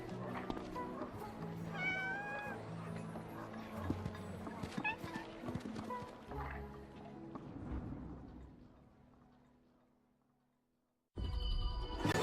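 A cat meows a few times with gliding, wavering calls over a busy game-stream mix and music, the sound fading out before a loud burst of music returns.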